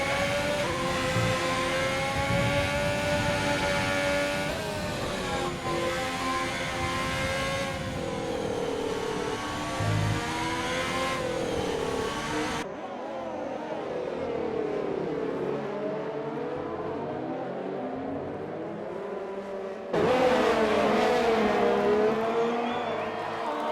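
Formula race car engines in a racing video game, loud sustained high-pitched whine with pitch sweeps as cars accelerate and shift, briefly dropping away before returning strongly.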